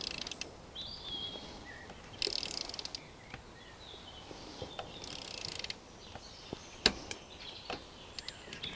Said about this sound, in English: I'll get my torque wrench, attach that